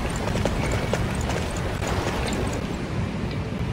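Rhythmic horse hoofbeats clatter under a rumbling Dynasty Warriors 9 battle soundscape, with a low booming texture running throughout.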